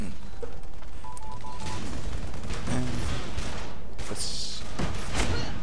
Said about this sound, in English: This turret has been glitched to shoot through walls for some reason.